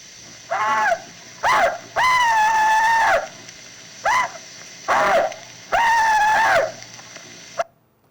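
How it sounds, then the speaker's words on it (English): A Confederate veteran's rebel yell rings out in an old recording: a series of six high, wavering whoops and yips in irregular bursts, some short and some drawn out, over a faint steady hum. "Now here is one Confederate veteran's rebel yell."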